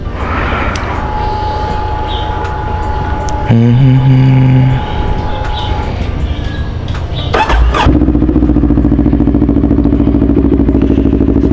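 A KTM motorcycle is started: a whirring starter and clattering crank, then the engine catches into a loud, steady, close idle that carries on to the end.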